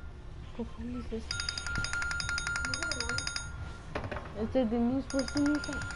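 A phone rings in a room, a bright repeating electronic ringtone that starts about a second in and keeps going, with people talking over it.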